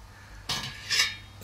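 A large metal hop spider is set into a copper brewing kettle, giving a close, bright metallic clank followed by a second clink and a short rattle.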